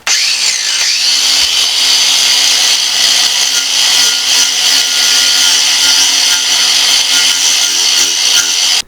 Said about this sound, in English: So I fitted a wire brush to my angle grinder.